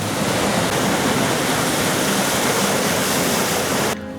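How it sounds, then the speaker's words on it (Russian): Loud, continuous roar of crashing Black Sea surf in Abkhazia fills the clip, a dense wash of water noise with no pauses, ending with a slight drop. "Ну как волны беснуются."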